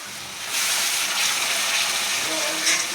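Water poured from a vessel into a pan of masala paste for a mixed black pea and chickpea curry, a steady splashing gush that starts about half a second in and runs close and even to the end.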